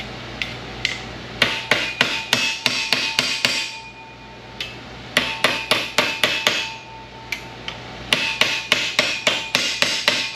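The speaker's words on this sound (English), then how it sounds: "get my hammer." Metal hammer blows on a car roof skin panel during rust repair on a Buick Riviera, sharp close strikes in quick bursts of several, pausing briefly between volleys, with ringing metallic tone.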